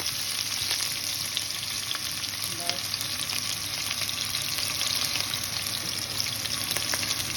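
Onion frying in hot oil with cinnamon, cardamom and salt for chicken curry; a steady, even sizzle close by with faint occasional stirring, no one speaking.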